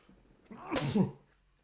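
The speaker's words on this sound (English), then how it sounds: "I'm going to sneeze." A single close, sharp sneeze: a quick breathy intake followed by an explosive burst, alone in a quiet room.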